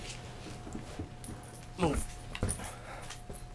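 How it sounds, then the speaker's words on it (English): A male dog whimpers and pants close by, with brief yips over a continuous background hum, while someone speaks a short command and talks around it. "That's my dog."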